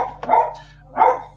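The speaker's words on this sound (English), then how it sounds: "my dog started barking for no reason." A dog barks twice indoors, two loud, close woofs spaced under a second apart with a faint click between, and no talking.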